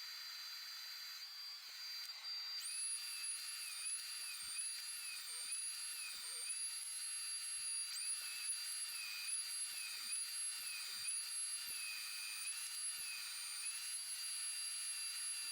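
A jointer runs as a pine board passes through it, making a faint, steady high-pitched motor whine that shifts slightly in pitch over its length, with a few light ticks and no speech.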